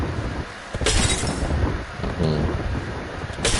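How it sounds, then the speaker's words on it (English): A video game shield breaking with a sharp glassy crack, heard as a couple of bright shattering bursts over a busy game background of wind and ambient noise. "When you hear that crack sound like a broken glass, it means the shield of the person is."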